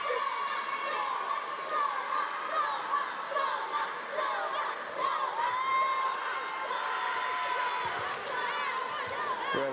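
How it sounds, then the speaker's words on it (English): Young French fans cheer a French competitor coming onto the tatami at a karate qualification tournament in Paris, a steady, lively crowd roar with raised voices and calls, continuous throughout and fairly close. "Well, they're cheering their French competitor that's just come on."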